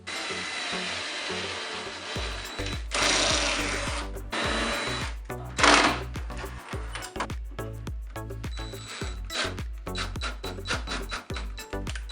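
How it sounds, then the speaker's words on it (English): A power drill whirs in short repeated bursts, close by, pre-drilling screw holes in furniture, with brief pauses between runs and some rubbing, scraping handling noise. "I'm pre-drilling holes, and then I'm going to put the screws in to attach this top"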